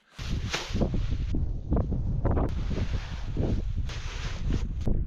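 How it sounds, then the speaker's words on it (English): Wind gusts buffet the microphone at an exposed mountain campsite, a steady, loud roaring rush with surging swells throughout and no talk. "The wind is consistently blowing from this direction"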